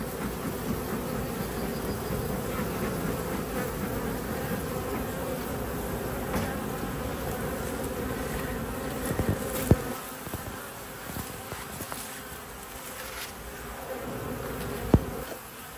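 Bees swarming around an opened beehive during an inspection, a steady dense drone of buzzing wings that fills the whole stretch, close and continuous with a few sharp knocks.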